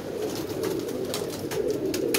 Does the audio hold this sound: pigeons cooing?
yes